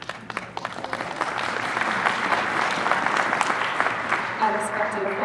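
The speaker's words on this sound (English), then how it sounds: "Unexpected applause moment." Applause from an audience at an education conference session, a steady wash of clapping that swells and holds throughout, fairly loud and diffuse, with some voices mixed in.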